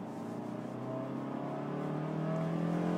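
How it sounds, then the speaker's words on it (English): A 2018 Honda Jazz 1.3 i-VTEC pulls hard at full throttle from about 40 km/h in second gear, its engine note rising steadily and growing louder over the few seconds, heard from inside the car. "And again, if I floor the car now"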